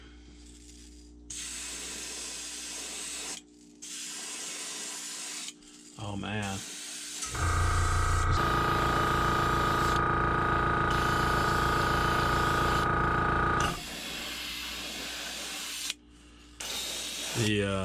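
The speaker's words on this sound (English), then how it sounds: "it's spraying." Bursts of iridescent spray paint hissing onto a dragonfly blank start and stop repeatedly, with a louder, steadier buzzing spray in the middle; a person briefly exclaims.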